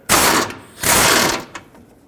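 A 13mm socket on a ratchet loosens fan shroud bolts on a 2008-2010 Ford F-250 with the 6.4L diesel; two short, close bursts of rapid mechanical clicking follow each other.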